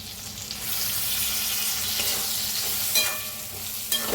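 Green chillies roast in a hot pan with a steady, close crackling sizzle and the scrape of stirring, with a couple of brief louder clinks near the end.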